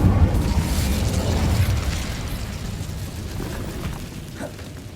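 In the Hogwarts Legacy video game, a cast Incendio fire spell erupts in a loud, deep whooshing burst of flame that slowly fades away.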